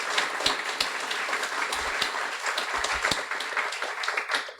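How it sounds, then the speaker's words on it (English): Audience applause at a Guiding Eyes graduation ceremony, honoring the N.M. Morris Family Foundation: a steady, dense wash of many hands clapping, fairly loud and sustained throughout, with no one speaking over it. "So a warm round of applause for the N.M. Morris Family Foundation"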